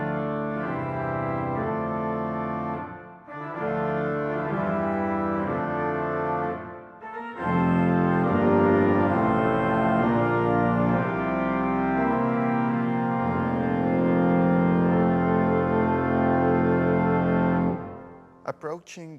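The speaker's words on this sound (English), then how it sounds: "The full reed chorus of the organ, without any foundations, sounds like this" A new Schumacher pipe organ, completed in 2020 at Øvre Kirke in Rælingen, Norway, plays its full reed chorus without foundations: bright, brassy sustained chords, loud and close, in phrases broken by two short pauses.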